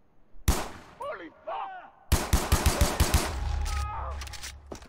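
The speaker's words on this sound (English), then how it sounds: "I'm using a pistol, it's not very good at that distance." Pistol shots ring out in the video game Far Cry 3, a sharp single report followed by a rapid string of about eight loud cracks, with faint game creature calls and ambient sounds between them.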